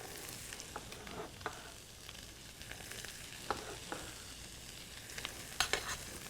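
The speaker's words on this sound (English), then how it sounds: "Add your butter to the saute pan. And of course, all of this delicious corn." Corn kernels sauté in butter in a sauté pan, with a fairly quiet, crackly sizzle and frequent small pops and ticks as the kernels are tossed, louder bursts near the end and no talking.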